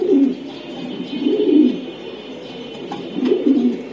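Racing pigeons, a breeding pair with a cock that has flown three races, coo in low, throaty bursts three times in quick succession, close by with soft background hiss and no talking.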